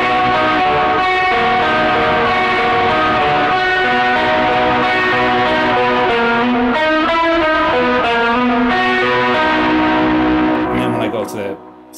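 An electric guitar runs through a TC Electronic Plethora X3 chorus set to mimic a rotary speaker, playing sustained chords and melodic lines with a swirling, warbling shimmer, loud and continuous, ending in a brief fade.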